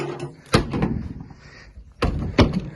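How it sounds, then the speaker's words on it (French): A vehicle door shuts twice with sharp, solid thumps about a second and a half apart, close by, with faint rustling and handling noise in between. "on va lui fermer la porte."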